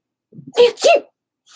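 A single close, loud sneeze in two bursts, a short intake followed by a forceful blast, then silence.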